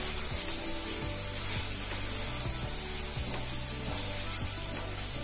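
Raw banana fry sizzling steadily in a hot pan as cumin and coriander powder are stirred in, a continuous crackling hiss with soft scraping stirs and a low background drone, no talking.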